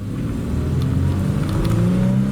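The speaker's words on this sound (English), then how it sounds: "let's step on the gas and see what happens" An old, cheap high-mileage car's engine revs and accelerates at full throttle, a steady low drone rising in pitch as speed builds, heard close from inside the car with no talk.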